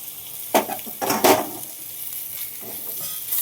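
Boiled egg pieces drop into hot oil with garlic chili powder, giving a few clattering stirs and bursts of sizzling followed by a soft steady frying hiss.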